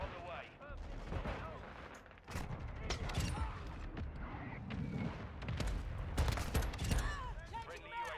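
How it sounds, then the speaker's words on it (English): Mortar strike explosions and gunfire fill a Call of Duty Modern Warfare II multiplayer match, with dense bursts of blasts and shots rumbling over eight seconds, loud and near, while game voice lines sound in the mix. "Friendly mortar strike on the way."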